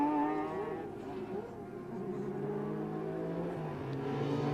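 A sports racing car in the 1999 World Cup round at Kyalami, the race leader's car on slick-tyre pit entry, gives a steady droning engine note that shifts slightly in pitch, heard at a moderate distance without speech.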